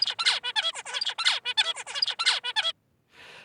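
A recorded tutor song played to young songbirds: a rapid string of bright, chattering syllables repeating for about two and a half seconds, a brief silence, then a short, noisy burst.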